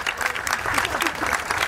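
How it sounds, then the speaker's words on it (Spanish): A brief burst of applause and crowd noise at a decentralized council session, honoring the park's designers; close, dense clapping with some voices mixed in. "Yo quisiera un aplauso para ellos."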